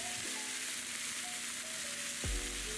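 Tomatoes cut into eighths frying with vegetables in a pan, a steady loud sizzle throughout with a brief clatter of stirring near the end, no voices.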